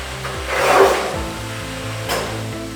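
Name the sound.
cutting ceramic tiles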